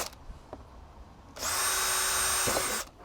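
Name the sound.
power drill drilling holes in old plastic guttering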